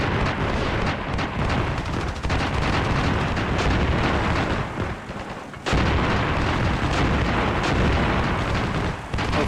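Dense, continuous barrage of mortar explosions and battlefield rumble in the war strategy game Armored Brigade II, loud and sustained throughout with a brief dip before the blasts resume.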